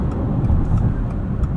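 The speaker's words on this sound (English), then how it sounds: "Let's merge onto the highway here and see how this handles tossed into a couple corners" A 2025 Subaru Forester Hybrid Touring merging onto a highway gives a steady, low road and engine rumble heard from inside the cabin, loud and continuous with no talk.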